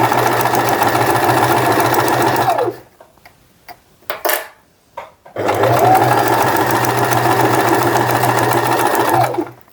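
A sewing machine back stitches a seam joining two panels of an adjustable bag strap, running in two long steady bursts with a short pause between them, close and loud.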